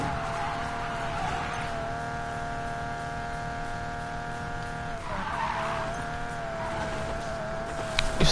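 A car in the Need for Speed racing game drives with a sustained engine tone, then skids with tire squeal around the midpoint before the engine carries on, no talk.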